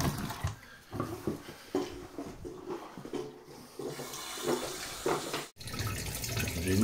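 Water from a bathroom sink tap runs and gurgles down the drain in uneven splashing bursts, nearby and moderately loud, with a brief pause near the end.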